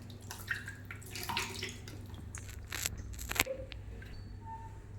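A foot rinsed with fresh water during a pedicure produces quiet, irregular splashes, drips and wet squishes at close range, with no speech.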